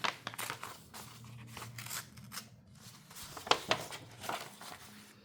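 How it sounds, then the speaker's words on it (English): Folded, hard-creased paper being torn by hand along its fold, heard as a run of short, close, crisp rips and crinkles over about five seconds, with a couple of sharper tears near the end. "They've been folded long enough and creased hard enough, it tears really straight."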